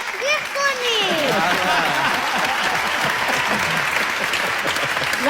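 An audience applauding, a sustained wash of many hands clapping that swells and holds steady, with a voice speaking briefly over it at the start.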